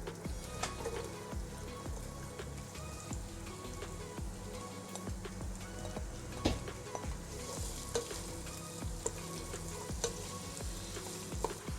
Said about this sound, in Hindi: प्याज को तब तक पकाना जब तक ये गोल्डन ना हो जाए